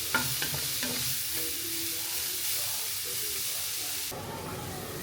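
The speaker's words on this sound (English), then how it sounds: "I'm adding the celery and carrot, and we're going to let this saute for a few more minutes" Celery and carrot sauté in a pan, giving a continuous soft sizzle and hiss with occasional stirring scrapes, moderately quiet and close, with no talk.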